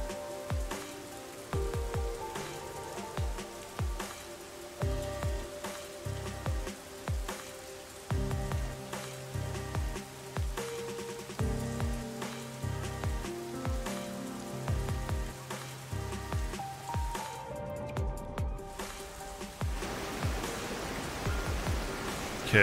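Steady rain patters and hisses on surfaces in the video game Rain Code, a soft continuous downpour with scattered drops and a faint musical background underneath.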